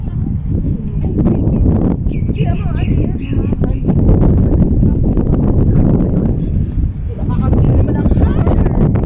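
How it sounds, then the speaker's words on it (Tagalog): Strong wind buffets the microphone outdoors in a steady low roar, with people talking over it throughout. "Oo nga eh, mahangin dito sa labas."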